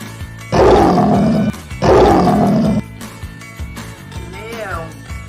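A lion roars twice in a children's cartoon about animal sounds, with two loud, rough bursts of about a second each, separated by a short pause. Background music plays throughout.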